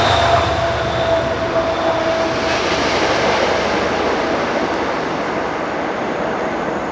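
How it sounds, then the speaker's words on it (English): A train passes close by a home beside the tracks, a steady broad rumble and clatter holding loud and even throughout, with a faint tonal whine early on and no talk. "that's a train."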